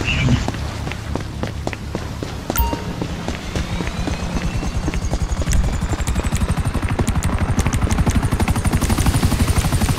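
A helicopter in the video game GTA 5 gives a loud, steady rotor chop of rapid, evenly spaced thumps that grows slightly stronger and quicker toward the end, with a hint of voices in the background.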